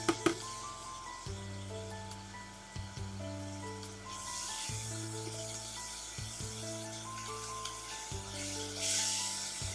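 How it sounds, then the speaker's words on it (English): Spices such as cardamom and nutmeg sizzle in a pot for beef rendang soup, a steady soft frying hiss with faint stirring, heard under background music. "Keep stirring it while you're cooking it to make sure it doesn't burn and also to make sure all the ingredients are well mixed"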